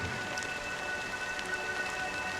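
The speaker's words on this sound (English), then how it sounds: "But it's still raining." Steady rain falling in the video game Honkai Star Rail, a dense continuous hiss of drops on surfaces, even and close throughout with no voices.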